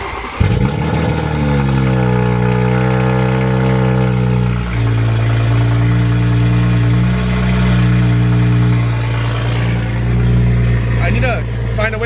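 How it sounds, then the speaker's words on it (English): A car makes an aggressive cold start: the engine catches and settles into a loud, steady high idle, close up, with the pitch easing down as it warms up. "This car has a very aggressive cold start, so I'll show you guys right now."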